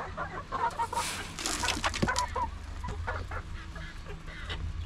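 Chickens cluck and squawk close by at a family home, several birds calling in irregular bursts, loud and clear with no talking.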